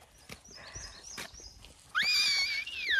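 A person imitating a horse gives a neigh near the end, high and wavering, after a stretch of quieter sounds and short tonal calls.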